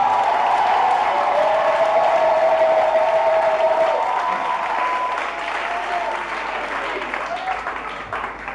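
A church congregation at a Sunday service applauding the Lord, sustained dense clapping from a crowd throughout, with singing or voices ringing over it at first and the clapping easing slightly toward the end.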